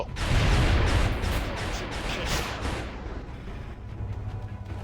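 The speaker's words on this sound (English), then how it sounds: "Drone explosions of fragments" A drone explodes into fragments in the XCOM video game, a loud, rumbling burst of blast noise that crackles and slowly tails off over several seconds.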